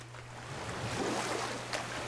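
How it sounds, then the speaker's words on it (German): A giant waterfall in the video game God of War roars as a steady, broad wash of rushing water, loud and continuous throughout, with a low hum running underneath. "was für ein gigantischer Wasserfall"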